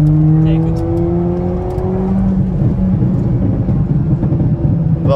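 A Peugeot 206 GTI 180 engine with its rear silencer removed runs close by, giving a steady buzzy drone with a slight rise in pitch. The sound is loud and continuous, and someone speaks briefly over it.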